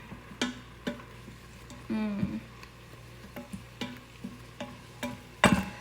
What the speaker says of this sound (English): We're gonna let it saute for another minute or 2.